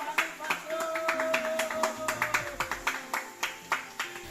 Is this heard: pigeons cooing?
no